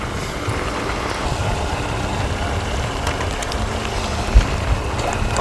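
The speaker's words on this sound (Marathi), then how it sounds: "पुन्हा जोरदार पाऊस होतोय" Heavy monsoon rain pours down in the Konkan region, a steady, dense hiss that holds evenly throughout with a faint low rumble beneath and no voices.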